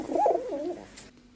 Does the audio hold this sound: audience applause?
no